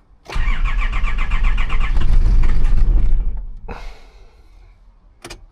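A Nissan Patrol G diesel engine cranks with rapid starter chugging, then catches and runs roughly for a moment before dying down, followed by faint mechanical clicks and a sharp closing tap nearby.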